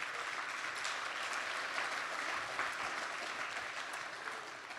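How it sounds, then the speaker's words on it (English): Audience applause at an evening mission network gathering, a thick, continuous wash of clapping from a crowd, steady and fairly close throughout. "a round of applause for Grace-Filled Table"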